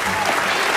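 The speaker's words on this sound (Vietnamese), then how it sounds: "Các bạn với anh quậy và Anna hãy cho bố một tràng vỗ tay nào." Children clap their hands for their dad at home in a brief, close burst of applause.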